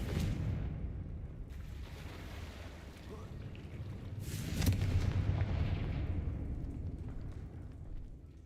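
A Confringo fire spell blasts in Hogwarts Legacy, a dense roaring burst with a low rumble that swells around the middle and trails off into a sustained crackling wash.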